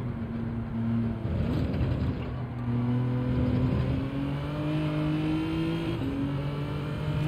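Race car engine in Gran Turismo 7 accelerating hard, a steady loud drone with rising revs and gear shifts, continuous throughout with no talk.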